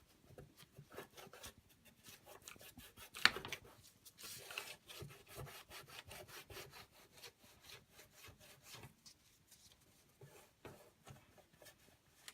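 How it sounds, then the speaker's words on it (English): Glue residue is rubbed off an Amiga 500 Plus plastic case with light pressure, giving soft, rhythmic back-and-forth scrubbing strokes, close and quiet, with no one talking. "just applying a little bit of pressure just to remove the glue residue from the old badge"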